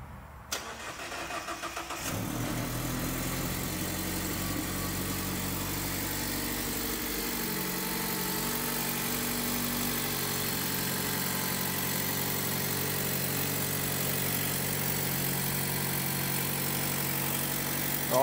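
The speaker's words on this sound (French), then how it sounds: "Mais là déjà on va faire le premier démarrage." A rebuilt 2.0-litre Mazda MX-5 ND engine cranks briefly and catches on its first start, then settles into a steady, loud idle close by.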